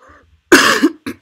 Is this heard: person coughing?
yes